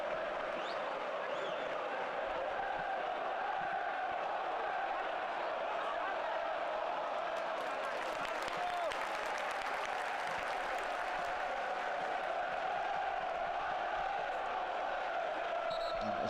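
Sunderland away fans singing and chanting inside a stadium at a Millwall v Sunderland match, a steady distant roar of crowd voices that persists throughout under a commentator's voice.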